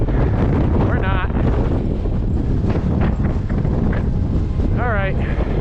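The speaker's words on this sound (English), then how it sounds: "It's just way too windy." Strong winter wind buffets the microphone on exposed, wide-open South Moat Mountain in New Hampshire, a steady loud roar with brief whistling tones and a faint voice underneath.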